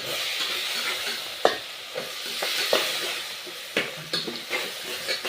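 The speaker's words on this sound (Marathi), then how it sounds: "आता आपण फुलवर, वाटाणा, टमाटे यात आपण टाकून घेणार आहोत" Cauliflower, peas and tomatoes stirred into a sizzling frying pan for a village-style khichdi, steady frying hiss with several sharp scraping clacks of a spoon against the pan, no voices.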